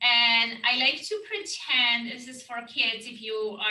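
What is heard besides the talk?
No everyday noise stands out behind the speech.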